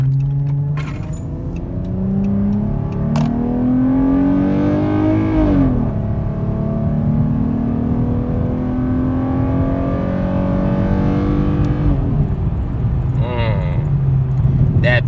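A V6 Dodge Charger with a new Pypes Performance exhaust rumbles deeply from inside the cabin, windows up, revving up through a long pull with a rising exhaust growl, then easing off before building again.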